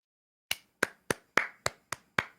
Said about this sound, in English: All I could do is give a round of applause.